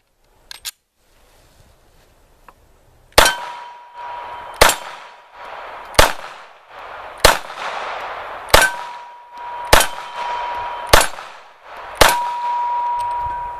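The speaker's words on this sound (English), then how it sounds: "I'm going to be shooting rounds from the 45 USP Compact." H&K USP Compact .45 ACP pistol shots fired one at a time at a steady pace, eight loud, sharp reports, each with a ringing metallic decay and echo.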